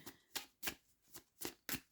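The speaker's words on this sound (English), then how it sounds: "let's just shuffle and see what other Atlantis card wants to come out." Atlantis oracle cards being shuffled, six crisp riffling bursts at a steady, roughly even rhythm, close and fairly quiet with no voices.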